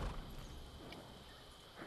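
Horse hooves clip-clop in the video game Ghost of Tsushima, a white horse's steps sounding soft and fairly close over a low ambient background, with no talking.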